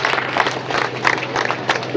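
Brief burst of audience clapping at an outdoor Paddy Plantation Day celebration in Jablipora, Bijbehara, for a chief guest, irregular hand claps rising and dipping over a low steady hum.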